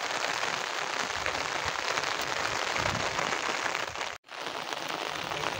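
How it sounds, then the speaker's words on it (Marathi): Heavy rain pours outdoors over a rocky plateau carved with petroglyphs in Konkan, a loud continuous drumming hiss with one brief break. "पाऊस पण खूप पडतोय."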